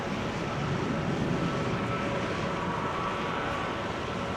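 A KLM Boeing 737-900 airliner on a flight to Lisbon roars steadily at Amsterdam Schiphol Airport in showery weather, a broad, even engine rumble and hiss that holds constant with no voices.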